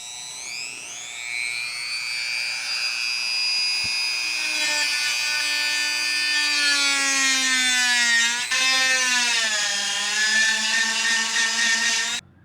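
A high-pitched Dremel rotary tool whines steadily for several seconds, its pitch drifting and dipping as it grinds and shapes holes up close.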